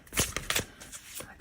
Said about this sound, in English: I've been shuffling for a while and nothing's coming